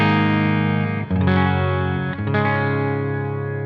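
EVH Frankie electric guitar with a Warmoth neck, no pedals engaged, straight into a 1985 Marshall JCM800 2203 head: a few loud, crunchy distorted chords ring out and sustain, close and alone, each struck chord decaying before the next.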